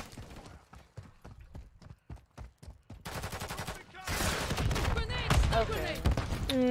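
Rapid bursts of gunfire from a video game shooter, Modern Warfare 3, with a shotgun in play: a string of sharp evenly spaced shots, then a louder, denser stretch of overlapping blasts and chaotic effects, with a voice talking over them.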